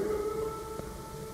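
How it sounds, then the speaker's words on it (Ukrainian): An air raid siren in Rivne Oblast, Ukraine, holds a steady wailing tone with faint overtones. It sounds distant and continuous, with no speech. "Ну, подочекаємо ще, хай сирена дови."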